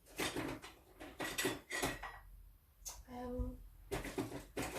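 A small spoon is picked up during soap making, with soft clinks and clatter of utensils and a drawer nearby, close and quiet among murmured talk.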